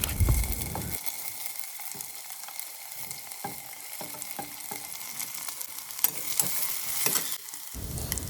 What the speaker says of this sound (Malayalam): അതിനുശേഷം അരിഞ്ഞു വെച്ചിരിക്കുന്ന ബാക്കി എല്ലാ ഐറ്റംസും അതിലേക്ക് ചേർത്ത്